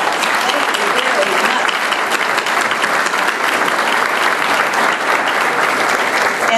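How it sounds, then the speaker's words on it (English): An audience at a school board meeting claps steadily for its full length, a dense, even round of applause filling the room, loud and close, with no talk heard over it. "Let's give you all a round of applause."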